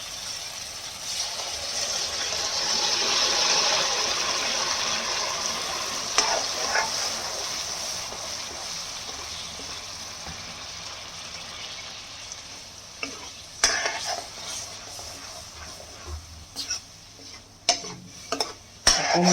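Tomato paste fries in a pan for Assamese dal tadka, a soft steady sizzle under occasional light scrapes and taps of a spoon stirring, fairly quiet and close with no talking.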